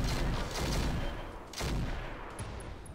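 Mech weapons fire in heavy volleys in Roguetech, a BattleTech mod, a dense rolling barrage with a distinct second burst partway through and nobody talking.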